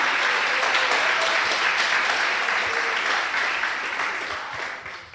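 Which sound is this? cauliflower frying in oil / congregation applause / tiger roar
congregation applause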